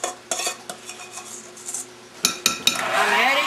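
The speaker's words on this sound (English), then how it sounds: "I'm adding the persimmon pulp to the sugar, eggs, and butter." Utensils scrape and clink against a mixing bowl as persimmon pulp is stirred into sugar, eggs and butter, with soft intermittent taps and a louder, wetter scraping toward the end, close by.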